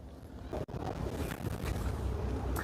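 Strong wind buffets the microphone on a seaside breakwater during float fishing, a loud, steady roar with a brief dropout near the start and gusts rising toward the end.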